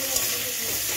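Chalta chutney sizzles and fries in a pan, producing a steady, dense hiss close by that fills the whole moment with no talking.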